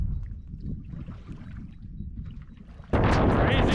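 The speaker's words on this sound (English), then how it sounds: "Crazy amount of wind coming down from the mountain." Strong gusty wind roars across the microphone while a sailboat tacks into nearly 30 knots of wind coming down off a mountain near rocks; a low rumble builds, then a sudden loud blast of wind noise fills the end.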